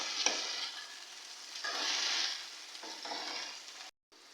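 Onions and tomatoes sauté in a pan for a restaurant-style shahi chicken gravy, giving a steady close sizzle broken by louder bursts of stirring scrapes, then a brief drop to silence near the end.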